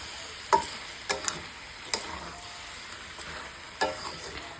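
Fried young jackfruit being stirred into a gravy in a pan, with a low sizzle under a few sharp scraping clinks of a spoon against the metal, spaced irregularly.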